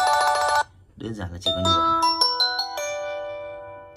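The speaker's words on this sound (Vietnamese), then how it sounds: "Nhạc chuông Spirit rất là hay, rất là hay." A BlackBerry Spirit ringtone on a BB10 BlackBerry Classic phone, bright chiming bell-like tones ringing a short melody with lingering sustained notes, following a brief stretch of speech.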